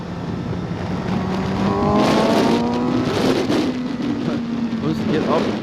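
A 2018 Suzuki GSX-S750 naked motorcycle's engine revs upward with a steady rising whine over constant wind rush, loud and close on the move, with a rider talking over it.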